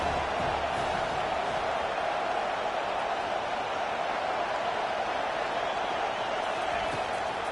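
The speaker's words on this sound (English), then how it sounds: "Decibels rising as the crowd gets behind this defense on 3rd down" Crowd roar in a college football video game on third down, a loud dense steady wall of stadium noise that holds without breaks, with talk faintly mixed in.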